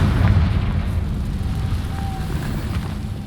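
A Confringo blasting spell from Hogwarts Legacy bursts into a low, rumbling explosion that booms at the start and then fades into a lingering roar.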